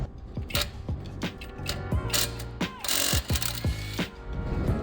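A Harbor Freight impact wrench removes bolts at the back of an S13 Silvia's suspension during a 5-lug conversion, giving repeated short mechanical rattling bursts with whirring tool noise in between.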